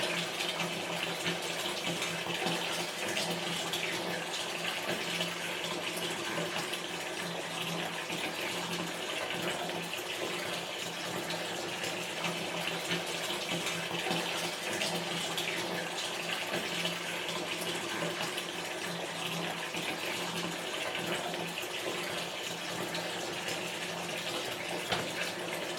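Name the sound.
bathtub filling with water from the tap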